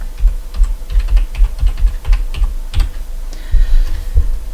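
Rapid, uneven keystrokes on a computer keyboard while an address is entered into a tax form, close and fairly loud with short bursts and pauses, no voices.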